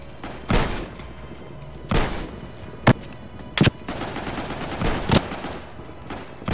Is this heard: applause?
no